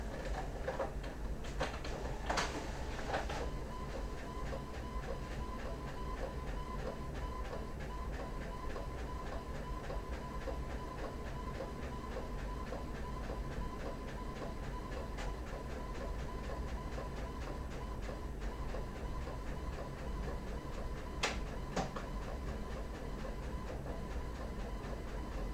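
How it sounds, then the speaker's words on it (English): A faint, steady mechanical whir runs throughout, like a printer working, with scattered soft clicks and clunks. "So I am going to print."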